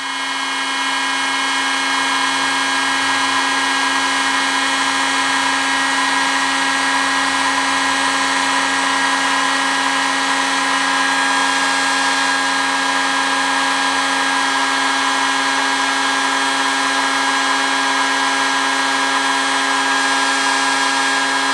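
A heater switched to high, used to warm fishing jig heads before powder painting, runs with a loud, steady whir and hum throughout, a constant broadband roar that shifts slightly partway through.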